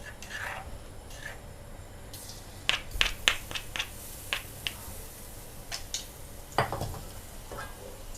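Crushed garlic frying in coconut oil for Thai shrimp-paste fried rice gives off scattered crackles and sharp pops over a faint sizzle, close by, with no talking.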